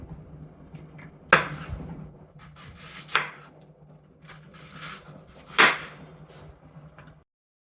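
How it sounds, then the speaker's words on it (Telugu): Knife chopping peeled raw mangoes into thick chunks for a pickle, a few sharp cuts against a board spaced a second or two apart with soft rubbing and handling noises in between. "చెక్కు తీసుకున్న మామిడికాయలన్నింటినీ ఇప్పుడు నేను చూపించే విధంగా ముక్కలు కోసుకుంటాను."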